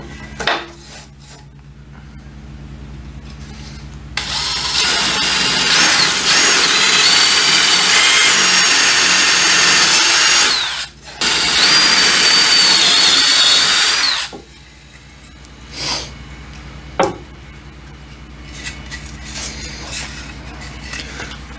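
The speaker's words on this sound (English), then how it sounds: "I'm going to drill a hole here" A power drill whines steadily through two long bursts drilling holes in wood, with a short pause between, then quiet workshop rustling and a few knocks follow.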